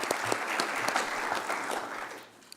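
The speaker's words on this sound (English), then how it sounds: "If we can just give all of our panelists another round of applause," Brief burst of audience clapping for a panel of speakers at a conference, moderately loud and dense before tapering off at the end.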